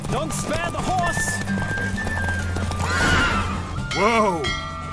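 Horse whinnying and neighing over a steady hoofbeat rhythm during a horse race in The Witcher 3, with excited voices talking throughout and a loud rising whinny near the end.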